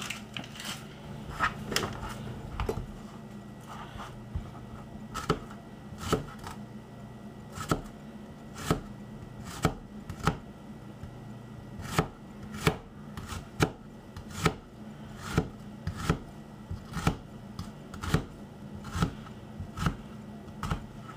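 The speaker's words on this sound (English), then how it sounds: "And you'll see what I mean as I start cutting this onion up." An onion is sliced with a knife on a cutting board, giving a steady series of crisp, close chops spaced about every half second to a second, with no talk.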